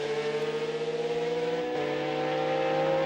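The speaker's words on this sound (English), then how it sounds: "the Ligier and the Ferrari blasting away." Ligier and Ferrari race cars at the 2003 Le Mans 24 Hours, engines droning loud and steady with sustained high revs, holding pitch then shifting slightly as they pass close, no voices.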